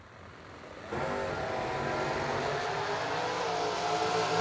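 A 1991 Oldsmobile Calais launches down a drag strip at a Christmas bash event, a sudden rise in engine roar at about one second that holds as a steady, fairly distant acceleration.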